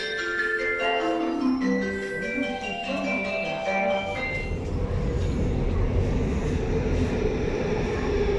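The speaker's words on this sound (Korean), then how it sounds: "지금은 신사역에서 지하철 타려고 합니다. 어, 온다." A Seoul subway train pulls into Sinsa station, a low rumbling roar that swells and fills the platform, preceded by a chiming melodic platform announcement tone.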